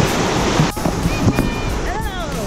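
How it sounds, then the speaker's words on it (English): A waterfall on a jungle trek at Bukit Lawang, heard as steady broadband rushing water that fills the whole clip at close range, with people talking and calling out over it. "Oh, there's water there? Yeah. Waterfall, wow."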